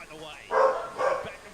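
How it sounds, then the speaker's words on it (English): A dog gives two short barks about half a second apart, moderately close, with a voice also present around them. "Oh, my dog's barking."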